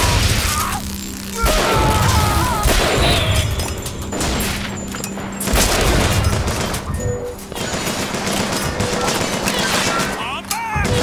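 Heavy gunfire in Bioshock Infinite, repeated bursts and booming shots over about eleven seconds with crashes and combat voices mixed in, loud and dense throughout.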